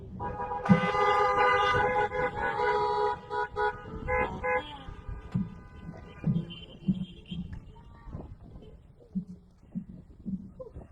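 Several car horns toot at once at the start of a high school graduation, overlapping tones from a few vehicles, then fade to scattered short honks and faint voices in the background.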